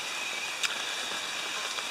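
Steady hiss of rain falls continuously with no voices, a dense even wash broken by a few faint sharper drops.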